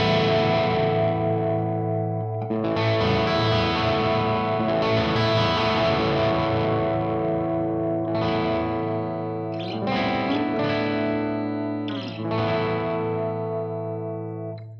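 An electric guitar chord is strummed in the middle pickup position with the neck pickup's volume rolled down. It rings out clean and sustained with a slightly effected shimmer, then gets restrummed in a few quick strokes before fading.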